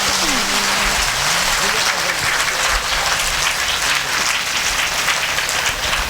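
An audience at a Bhagavat Katha religious gathering applauds loudly and continuously, a dense wash of clapping from many hands lasting the whole stretch.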